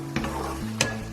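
Curry paste of onions, tomatoes and spices sizzles in a pan with a low steady fry, punctuated by two brief scraping stirs, close and without talk.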